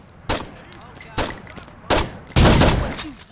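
Gunfire in the video game Saints Row 2: four loud, separate shotgun-like blasts about a second apart, the last one longest and heaviest, with no speech over them.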